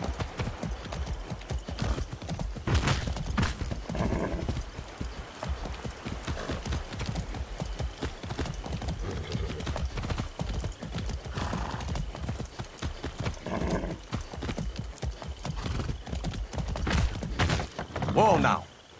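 Galloping horse hooves in Far Cry 6, a rapid, continuous clip-clop drumming up close throughout, with a brief whinny near the end as the ride comes to a stop.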